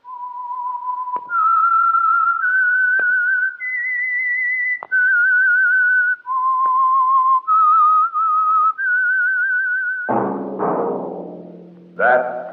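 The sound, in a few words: whistling tune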